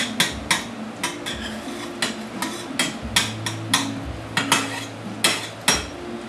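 Metal utensil scraping and clacking in a too-small skillet while stirring food, repeated sharp taps in an irregular rhythm over a faint low hum.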